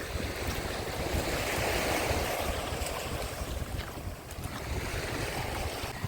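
Sea waves wash onto the shore at the resort village of Karolino-Buhaz in Odesa region, a loud, continuous rushing surf with wind buffeting the microphone.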